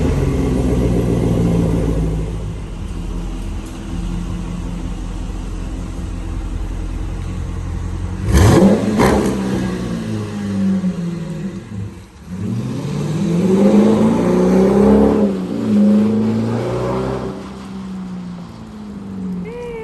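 2022 Dodge Durango with a Corsa exhaust rumbles at idle, then revs sharply several times with rising and falling pitch, loud and close, before settling back to a deep idle.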